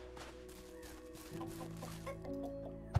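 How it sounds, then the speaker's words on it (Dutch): A prairie chicken in the Western ranch game Cowboy Life Simulator clucks in short, soft bursts over a quiet tonal in-game background, fairly faint, with no talking. "Ja, Prairie Kip, jij mag mooi in ons kippenhok."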